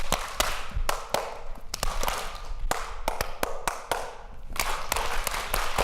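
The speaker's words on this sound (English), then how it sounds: "I'll clap my hands. You copy with a clap." Audience at a library storytelling celebration clapping hands in call-and-response: a series of sharp, loud claps in irregular bursts, some single and some in quick groups, close and without talk.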